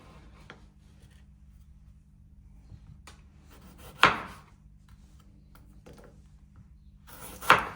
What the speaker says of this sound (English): Actually, better cut up some tomato too,